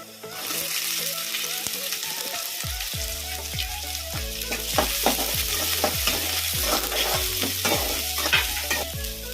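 Chopped garlic and onion fry in hot oil in a pan for Aloo 65 while being stirred. A steady loud sizzle runs throughout, with repeated scraping stir strokes and no talk.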